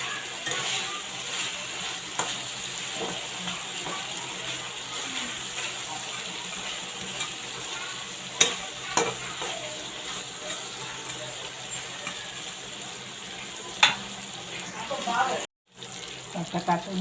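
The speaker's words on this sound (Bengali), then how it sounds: "দিয়ে মাছগুলোকে একটু মশলার সাথে ভালোভাবে মিশিয়ে নিব।" Fried hilsa fish is stirred into sizzling masala in a pan, giving a continuous close hiss broken by occasional spatula knocks and scrapes, with a brief dropout near the end.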